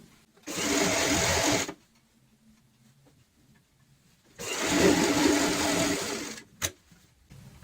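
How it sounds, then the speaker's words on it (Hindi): A sewing machine stitches a cushion cover in two steady running bursts of about a second and several seconds, separated by a quiet pause, with a brief sharp click near the end. "अब हम यहाँ पे सिलाई लगाएंगे।"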